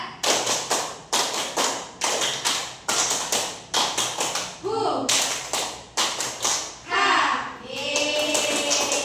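Schoolchildren in a classroom perform a longer rhythmic spirit clap, many loud unison claps in repeating groups broken by short chanted shouts between sets.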